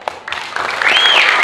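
Audience applause at a Balinese drama gong performance, a short burst of clapping that swells into dense, loud crowd noise with a rising whistle-like tone over it.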